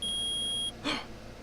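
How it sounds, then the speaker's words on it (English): A metal detector in a video game gives a steady high electronic beep for most of a second, then cuts off, followed by a short swishing burst and quiet. "It's beeping! The metal detector found something!"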